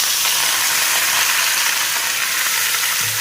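Marinated chicken frying in a hot pan, a dense, constant sizzle at close range with faint stirring underneath, no voices.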